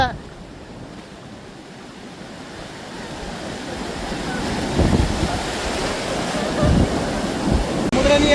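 Ocean surf at Puri beach, a broad rolling roar of breaking waves growing louder toward the end, with wind buffeting the microphone and faint voices in the background.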